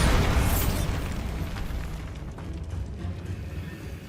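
A Bombarda explosion spell in Hogwarts Legacy goes off with a loud burst that rolls into a long, fading rumble of debris and crackle.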